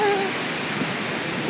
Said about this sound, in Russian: Ой, какая бурная река.